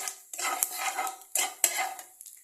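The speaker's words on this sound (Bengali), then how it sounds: "তেজপাতা আর শুকনো লঙ্কা ফোড়ন দিয়ে এটাকে একটু ভালো করে নাড়ব।" A metal spoon scrapes and clanks against a pan while bay leaf and dried red chilli are stirred into hot oil, giving a few quick, close, bright scraping strokes with brief pauses between them.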